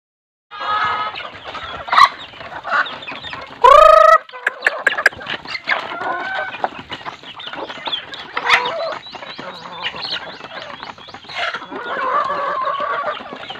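Native chickens cluck busily at feeding time, a dense, close chorus of overlapping clucks and squawks with one louder crowing burst early on.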